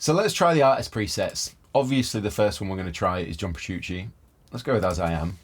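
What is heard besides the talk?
None of the usual background noises is heard.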